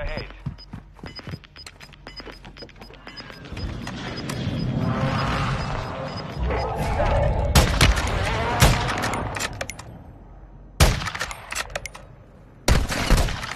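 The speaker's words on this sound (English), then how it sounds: "Taking effective fire." Gunfire in Call of Duty Warzone 2.0, with scattered shots, a sustained burst of automatic fire and sharp loud cracks, mixed with game sound effects and in-game voice callouts.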